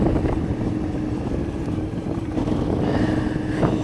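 An Aprilia Shiver 750 motorcycle ridden up a twisty canyon road, its engine a steady low drone buried under constant loud wind rush, with a brief rise near the end.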